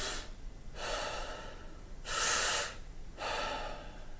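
Deep breaths drawn in as a breathing demonstration, three or four long airy inhalations in a steady rhythm, each rising and fading, one louder and sharper than the rest, close and clear with no talk.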